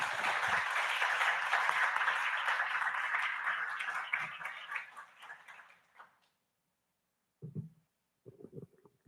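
A church congregation applauding, dense clapping from many hands that fades out after about six seconds, followed by silence and a couple of short faint bursts.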